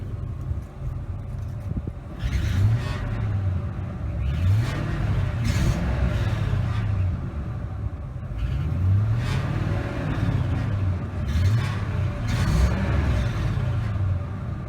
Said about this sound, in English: And rev it up real quick.